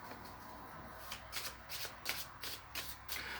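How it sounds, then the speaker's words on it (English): Oracle cards being shuffled by hand, with a run of quick papery riffling bursts repeating in a steady rhythm; quiet and close, with no voices. "so I'm going to pull a few cards."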